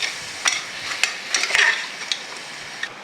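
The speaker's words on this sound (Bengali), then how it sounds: "তারপরে মাংসগুলো দিয়ে দেবে, দিয়ে সেটাকে বেশ খানিকক্ষণ ভেজে নেবে" Pieces of meat for biryani frying in a pan, a soft sizzle broken by several sharp scraping stirs of a utensil against the metal, close and without talk.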